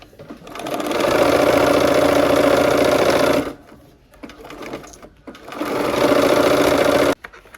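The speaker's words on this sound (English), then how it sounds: "let's go ahead and sew that seam" Sewing machine stitching a fabric seam on a quilt project, a loud steady whirring run, a brief stop, then a second run that cuts off sharply, no voices.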